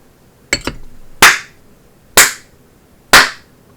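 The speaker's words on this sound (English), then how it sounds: "I hear someone clapping." Sharp, clean claps from a visual novel video game, a quick double clap followed by three louder single claps spaced about a second apart, each ringing out briefly in an otherwise quiet scene.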